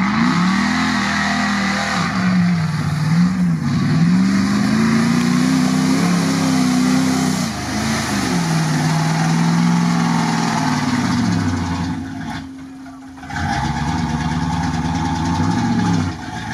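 An off-road Dodge truck engine revs in a competition, its loud pitch rising and falling in repeated surges, briefly dropping near the end before climbing again.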